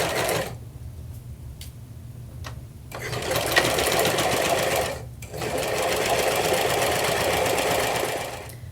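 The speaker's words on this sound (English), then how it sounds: "I'm going to do some back stitching along here just to make sure that any kind of pressure or pulling that happens on the seams is well reinforced" A sewing machine with a walking foot runs back and forth, back stitching the seams of a quilted cathedral windows tote, with steady close whirring bursts broken by brief pauses.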